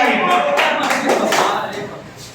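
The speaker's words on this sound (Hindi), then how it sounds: "जोरदार ताली से स्वागत करें अमर बेवफा जी का।" Clapping from the audience at an open mic comedy and poetry night greets the next performer, a short burst of applause that tapers off with a voice faintly underneath.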